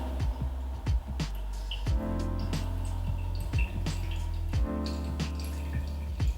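Hot water poured steadily over a bed of freshly roasted coffee grounds in a circular motion, a continuous close trickle and splash with small drips, no talking.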